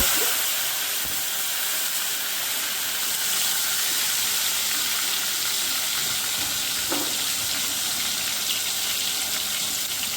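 Steady hissing sizzle of finely chopped onions frying in hot oil with asafoetida, loud and close, continuous throughout with no voices.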